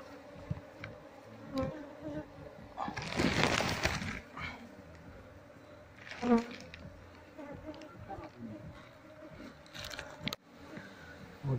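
Steady buzzing of many wild bees around a hive during a transfer to a box, with louder swells as insects pass close, and scattered voices and handling noises underneath.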